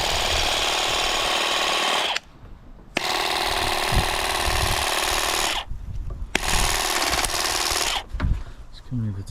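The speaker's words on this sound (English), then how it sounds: "So let's give this the small shears a go first." Ingco cordless garden shears trim a garden hedge in three long, loud, steady buzzing motor bursts separated by short pauses, with brief rustling and handling noise between runs.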